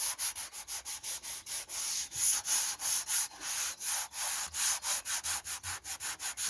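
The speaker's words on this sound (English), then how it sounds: "sanding the Flex Seal that I put on." Flex Seal coating on a garage roof being sanded in fast, even back-and-forth strokes, a loud close scratchy rasp repeating about three times per second with no talk.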